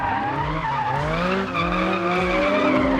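A Porsche 911 GT3 RS slides sideways on a race track, its tyres skidding and squealing continuously over a loud, close engine drone with shifting revs.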